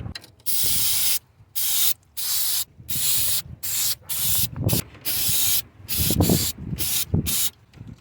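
Aerosol brake cleaner sprayed around a Ford Escape or Mazda Tribute ABS pump to clear spilled brake fluid, a series of loud close hissing bursts of varying length separated by brief pauses, with faint clunks between them.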